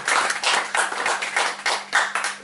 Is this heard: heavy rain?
no